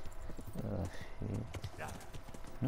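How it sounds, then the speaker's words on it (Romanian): A horse's hooves clip-clop in the video game Kingdom Come: Deliverance. The steps are steady and rhythmic, near and moderately loud, while someone talks over them. "Să ne luăm calul,"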